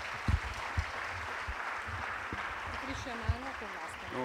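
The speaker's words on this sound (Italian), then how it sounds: "E lascio la parola, chiedendovi un applauso, al professor Di Freddi" Applause from a lecture audience welcoming a speaker: a soft, steady wash of clapping heard from a distance, with a few low thumps and a brief voice rising near the end.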